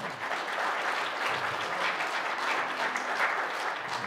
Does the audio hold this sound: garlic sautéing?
no